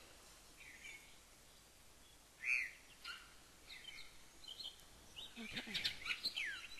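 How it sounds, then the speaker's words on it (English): Ambient birdsong plays as a sound cue in an Unreal Development Kit game level: scattered chirps and tweets, one brighter call near the middle and a busier burst of calls toward the end, faint and moderately distant, with a brief spoken word. "I'm going to add ambient birdsong"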